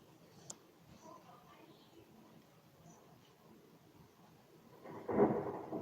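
Distant thunder rolls in softly during a storm, starting as a faint low rumble and swelling into a louder, deeper roll near the end.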